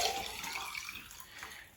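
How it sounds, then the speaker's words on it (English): Water pours into a drinking glass for a small mixed flower arrangement, a faint, continuous splashing fill that tapers off toward the end. "So I'm going to fill it up with water."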